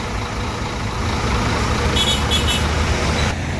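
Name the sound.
black and yellow Scania bus driving on road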